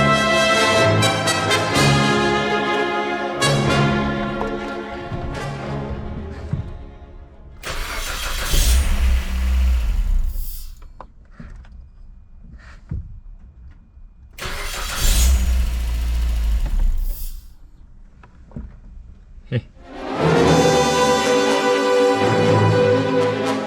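A Suzuki Swift Sport engine is revved several times from idle, each loud, rough burst rising and falling back to a steady idle, with no voices.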